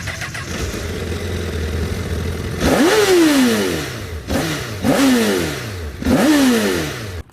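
A 2008 Honda CBR1000RR sportbike idles with a rough burble, then is blipped three times in quick succession, each rev snapping up sharply and sliding back down, loud and close with no voices.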